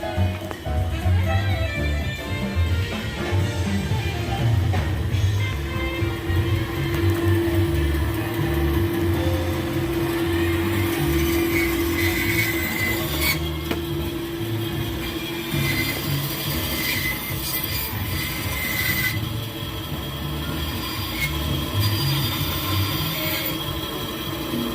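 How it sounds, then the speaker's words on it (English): Bandsaw slicing through wood for scroll work, a steady continuous whir and blade hum with a sustained tone throughout, fairly loud and close, with brief bits of speech over it. "So I'm gonna cut this off on the bandsaw real quick,"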